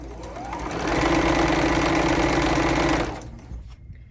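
A sewing machine runs in one sustained, steady whirring burst of about two seconds while chain piecing fabric quilt blocks, then slows and stops, close and loud.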